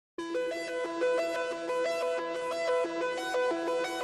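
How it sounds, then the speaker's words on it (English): A synthesizer arpeggiator cycles steadily through repeating bright notes in a quick, even pattern. The sequence shifts pitch every half second or so, and it plays clean and alone with no voices. "I have an arpeggiator synthesizer."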